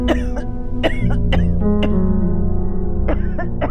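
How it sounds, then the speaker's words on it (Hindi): A woman coughs repeatedly in short harsh bursts, close by, with a few scattered coughs toward the end over a steady low background hum. "ये अम्मी इतना क्यों खांस रही है?"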